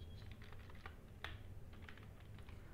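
A programmer types on a computer keyboard, the quick irregular keystrokes close and fairly soft over a steady low background hum. No voices.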